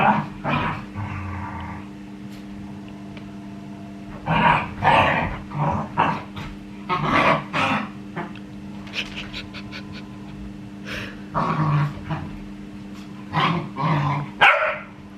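A female dog growls and barks loudly while playing indoors, giving repeated close bursts of snarls and yips with short pauses between them, and there is no talk.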